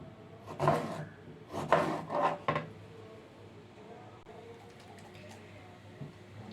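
A knife slices eggplant into thin strips on a cutting board: a few quick, close chopping and scraping strokes in the first two and a half seconds, then quiet kitchen background.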